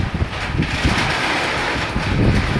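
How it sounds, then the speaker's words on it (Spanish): Strong wind during a rainstorm with lightning, buffeting the microphone in a loud, steady broadband roar with small gusty swells, close and continuous, with no voices over it. "Es que está bien fuerte el viento, chica, nos está despeinando."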